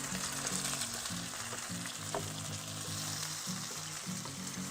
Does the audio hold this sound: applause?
no